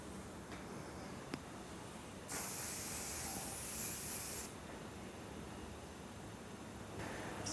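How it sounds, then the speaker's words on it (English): Hairspray from an aerosol can sprayed in one steady hiss of about two seconds while an African turban hairstyle is finished. It is fairly close and clear, with quiet room noise before and after and no talking. "a little bit of hairspray"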